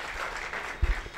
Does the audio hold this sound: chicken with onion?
no